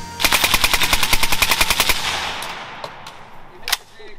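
Fourth of July fireworks going off in a rapid string of sharp cracking bangs for about two seconds, followed by a few scattered distant pops and one louder late bang.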